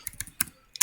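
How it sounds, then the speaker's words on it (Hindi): Keys clatter on a computer keyboard as code is typed in a programming tutorial, four quick clusters of close, crisp clicks with short pauses between. "अगर हम सिंपली ऐसे टाइप कर दें"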